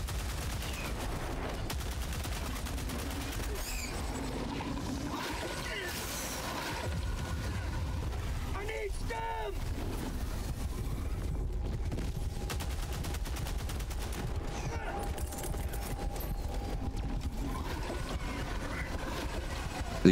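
BR-14 Adjudicator marksman rifle fire in a video game: a loud, dense, continuous barrage of shots over heavy background rumble, with no talk.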